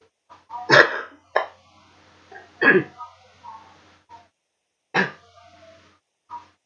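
Several short, harsh coughs spaced out over a few seconds, close to the listener, with quiet pauses between bursts.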